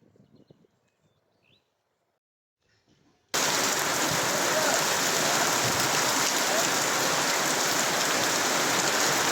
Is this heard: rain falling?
yes